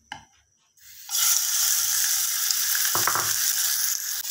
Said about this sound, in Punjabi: ਇਸ ਤਰ੍ਹਾਂ ਅੱਛੀ ਤਰ੍ਹਾਂ ਆਪਾਂ ਚਿਕਨ ਫਰਾਈ ਕਰ ਲਾਂਗੇ